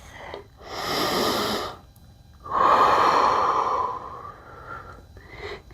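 Slow yoga breaths come close and clear, a long inhale followed by a longer, rushing exhale, with quiet pauses between and no talking.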